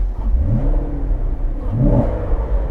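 A 2015 Chevrolet Corvette Stingray engine revs twice with a low, subdued exhaust rumble through its active sport exhaust in touring mode, rising in pitch each time, muted and fairly close.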